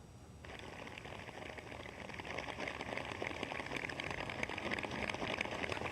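Steady rain patters and hisses across a surface by Dal Lake in Srinagar, a dense, even wash of drops that swells slightly louder partway through.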